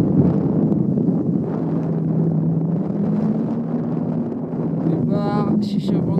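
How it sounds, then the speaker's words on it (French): Strong wind roars and buffets a microphone high on a mountain climb, a steady loud rushing broadband noise with low rumble throughout, with brief clicks and a short whistling tone near the end. "Il y a un peu du vent, hein ?"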